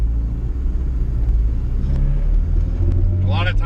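A turbocharged Honda Civic EG hatchback with a GSR engine, tuned too lean, rumbles and drones steadily from inside the car while building revs. A brief rising whine comes near the end.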